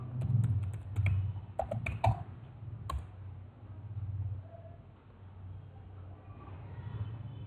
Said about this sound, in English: I type youtube.com on the search bar.